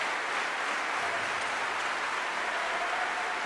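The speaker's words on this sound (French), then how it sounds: "Et ça vaut bien les applaudissements des 1500 aficionés passionnés de Cesta." Steady applause from about 1,500 spectators at a cesta punta semi-final, an even wash of clapping from a large crowd that continues without a break.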